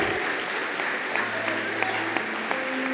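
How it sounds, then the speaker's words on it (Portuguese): Church congregation applauding at a sermon, a steady wash of clapping that stays even throughout with faint voices and a few brief tones over it. "Eu quero um aplauso de Ruths de Deus aqui"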